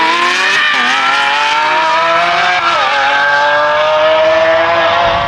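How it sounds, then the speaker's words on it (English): A Ferrari F12 with a V12 engine accelerates hard down a runway, its loud high-pitched scream climbing steadily through the gears with brief dips at shifts, close and continuous. "V12 absolutely screaming up the runway."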